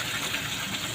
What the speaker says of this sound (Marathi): चांगला फ्राय करून घ्यायचा आहे पेस्ट आणि टमॅटोला.